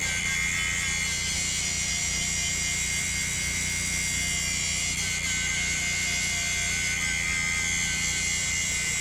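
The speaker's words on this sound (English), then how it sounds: "here comes the grinder. We're gonna grind the spot here," Angle grinder held against a painted boulder to strip the paint before rebar is glued in, a continuous loud high-pitched whine with a gritty edge, steady and close throughout.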